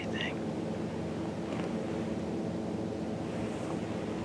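Steady, loud wind rushes outdoors on a cold 28-degree northwest breeze in Ohio woods, buffeting the microphone in a continuous roar with no break across the whole stretch.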